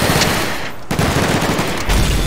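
An explosion in a shooter video game: a loud, close, continuous roar of blasts and gunfire-like bursts, with a brief dip before it surges again.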